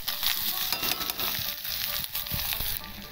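Chopped vegetables hit hot oil and fry with a loud, continuous crackling hiss, broken by a few metallic clinks of a spoon on the pan.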